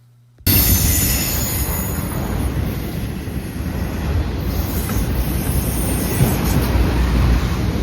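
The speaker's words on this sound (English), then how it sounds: "another BNSF coal train rounds the corner" A BNSF coal train passes steadily on the railroad, a loud continuous rumble of rolling cars and wheels that starts abruptly and holds for the whole stretch, with faint high squealing above.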